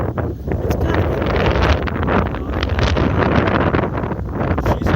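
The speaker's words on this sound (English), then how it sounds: "she's getting kind of windy out" Steady wind buffets the microphone outdoors at a hot rod car tour event in Charlotte, North Carolina, in a constant loud rumble with gusty rustling, no voices.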